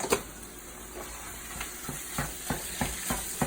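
Ground meat hits a hot pan of translucent onions and sizzles quietly, with a steady hiss broken by a run of regular scraping stirs from a utensil.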